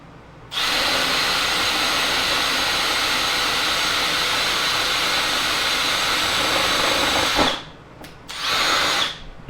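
Milwaukee 2801-20 brushless drill with a 5/16 bit running at full speed, a loud steady high whine held for about seven seconds, then a brief stop and a short restart.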